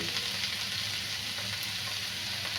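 Stuffed bitter gourd (bharva karela) frying in oil in a pan, a dense continuous hiss of sizzling close up with soft stirring underneath, steady and unbroken throughout.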